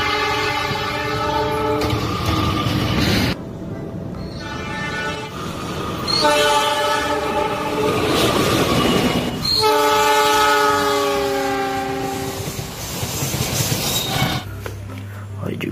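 A KRL commuter train in a video game rolls past with loud, sustained horn blasts and rumbling wheels, the horn sounding in several long tones separated by brief gaps, with the train noise fading near the end.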